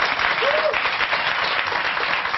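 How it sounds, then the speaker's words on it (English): A studio audience at a post-convention political talk show bursts into steady, dense applause that fills the whole moment, loud and close, with no voices over it. "The audience applauds that."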